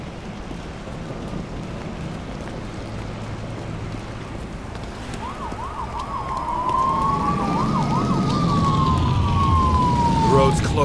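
A police car siren wails in the video game Nobody Wants to Die, starting midway and rising and falling in repeated sweeps as it grows louder over a steady rain-like wash.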